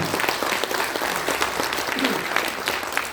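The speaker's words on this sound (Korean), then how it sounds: "여러분들 다시 한번 큰 박수 부탁드리겠습니다." Sustained audience applause at a political party launch ceremony in a hall, a dense steady clatter of many hands clapping throughout with no break.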